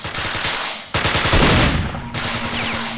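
Shotgun slug shots in STALKER: Shadow of Chernobyl, three loud, close blasts spaced about a second apart, each with a long ringing tail.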